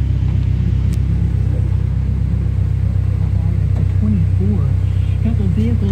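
A Honda S2000 fitted with an Invidia N1 exhaust holds a loud, deep, steady exhaust rumble at close range, with only a slight lift in engine speed toward the end.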